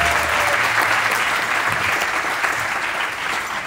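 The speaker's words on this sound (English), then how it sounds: "let's give another big round of applause to Holly Sue Gray" Dense, steady applause from an audience at a Red Earth event at a western heritage museum, loud and continuous throughout with a few whoops underneath.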